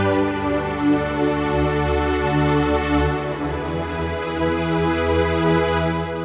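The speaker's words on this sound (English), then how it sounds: "I'm going to use the Deep M White strings." Omnisphere's Deep M White strings patch plays a simple four-bar chord progression, lush and sustained, with chords swelling smoothly into one another at an even, full volume.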